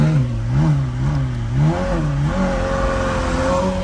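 A video game car engine held at full throttle while running rough, its pitch wavering up and down, then climbing to a steadier, higher drone, loud and continuous with no talk.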